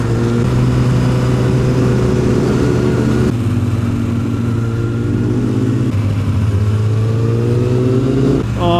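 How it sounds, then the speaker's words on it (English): A tractor engine passes along a rural road in North Wales, a loud steady mid-pitched drone whose tone shifts and drops as it moves by, heard close and alone without talk. "Clear the way. Tractor coming through."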